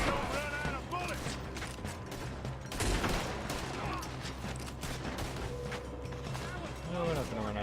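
Rapid gunfire during a robbery in Red Dead Redemption 2, with repeated shots and mechanical clatter running throughout, mixed with game voices.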